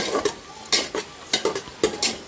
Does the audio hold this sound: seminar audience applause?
no